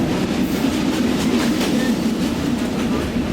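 The Ramna local passenger train runs along its rails, producing a steady, close rumble with faint rhythmic wheel clatter and no talking.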